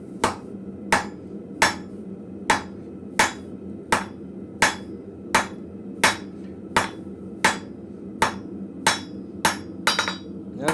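A blacksmith's hammer strikes hot steel on an anvil to draw out a taper, about sixteen sharp ringing blows at a steady, even rhythm, loud and close with no talking.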